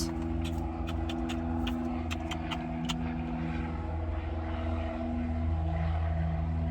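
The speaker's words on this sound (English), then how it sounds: "hopefully that's not too loud. Airplane." An airplane passes overhead outside a parked van, a steady low droning rumble that stays fairly loud and constant throughout, with faint clicks on top.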